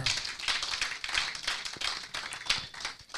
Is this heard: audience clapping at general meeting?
yes